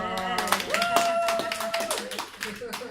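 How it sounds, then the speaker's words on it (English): A seated audience gives a short round of clapping for a presenter at a talk on Dale Carnegie's book, the claps sharp and scattered and mixed with overlapping voices. "giving a big round of applause to John for a great presentation"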